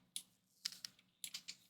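Computer keyboard keys typed at a desktop setup in a few short bursts of quiet clicks with pauses between, no voices.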